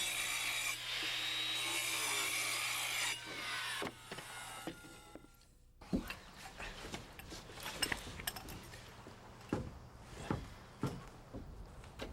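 Wood flooring is cut by hand around a pipe, first with steady back-and-forth rasping saw strokes, then after a pause a run of sharp scattered knocks and scrapes as the pieces are handled, close by and fairly quiet.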